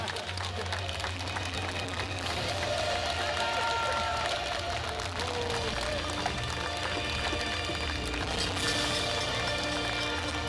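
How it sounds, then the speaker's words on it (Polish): Steady applause from a crowd at a knights' tournament siege reenactment in Chojnice, Poland, a dense continuous patter of clapping that holds evenly throughout with faint background voices. "Brawa dla uczestników!"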